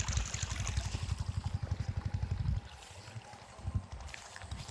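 Water from an irrigation pump gushes into a field channel, a close, pulsing rhythmic splashing that stops partway, leaving quieter trickling and faint outdoor noise.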